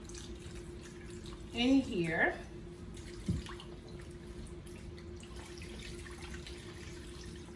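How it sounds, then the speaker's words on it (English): Chicken stock pours into a roasting pan with a soft, running liquid sound, partly under a person talking nearby. "We're going to pour our chicken stock"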